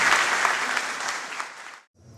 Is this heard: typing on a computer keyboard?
no